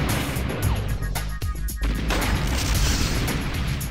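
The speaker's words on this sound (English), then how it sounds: "Overkill still using his arties to fire in the middle" Artillery pieces firing in the real-time strategy game OpenRA during a 4v4 match, heavy booms and rattling blasts piling up in a dense, continuous barrage.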